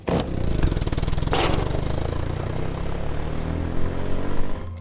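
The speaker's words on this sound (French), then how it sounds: "T'essayes de faire repartir le moteur avec de l'huile de tournesol?" A motor running on sunflower oil in place of motor oil, smoking as it runs, gives a steady, loud rumbling drone that holds throughout with some rattling clatter on top and no talk.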